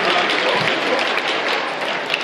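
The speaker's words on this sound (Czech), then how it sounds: "Váš potlesk si jistě zaslouží." A school audience gives steady, loud applause to the first-year classes of a Prague 9 grammar school and their teachers, a continuous dense wash of many hands clapping with no voices over it.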